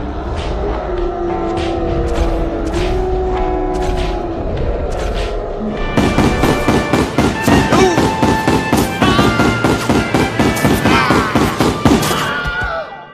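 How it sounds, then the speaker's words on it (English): Gunfire from the Red Dead Redemption 2 video game comes as a loud, rapid run of sharp shots in quick succession. Music or tonal game sounds play underneath. "Hey, nice shooting, Arthur."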